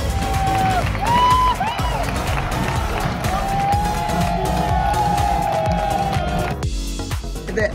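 A loud, good-natured crowd of French rugby fans at La Rabine for a Six Nations match with Scotland, a continuous roar of cheering and noise with a whistle-like tone, while a voice talks close by.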